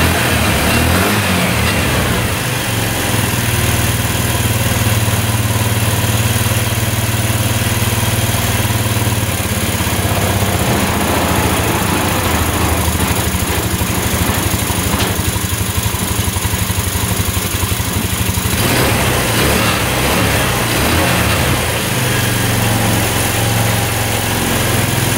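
Small UTV engine running after its carburetor was cleaned, a steady high-pitched buzzing idle held constant and close, with slight fluctuations but no revving.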